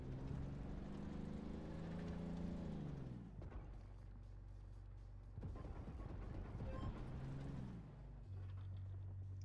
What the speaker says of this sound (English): you're wondering what that noise was, I just loaded guided missiles,